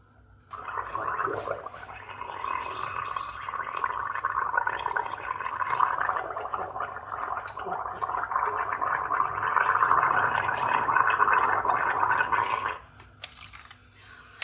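Steady gargling of water in the throat, a bubbling rattle that goes on continuously for about twelve seconds and then stops abruptly.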